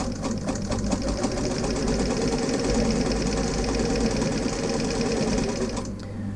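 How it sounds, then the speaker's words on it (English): A sewing machine stitches a travel roll case with a zipper, running in a continuous, dense, steady whir close to the microphone before easing off at the end. "3 reverse stitches to start, 1, 2, 3, and away you go."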